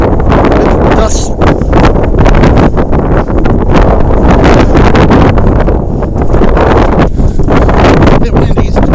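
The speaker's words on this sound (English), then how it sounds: "Bit windy" Steady, loud wind buffets the microphone throughout, a constant roaring rush with gusty swells, while a voice speaks over it.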